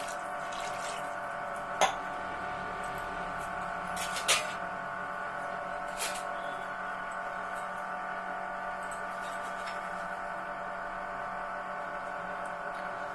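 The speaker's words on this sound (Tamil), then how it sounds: "இப்போ தண்ணி ஊற்றிக்கலாம்" A steady stream of water pours continuously into a cooking pan with a faint hum underneath, broken by a few brief knocks and clinks.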